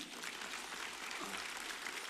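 An audience at a Karenni National Day celebration in Australia claps steadily, an even wash of applause heard from a distance and held at low level throughout.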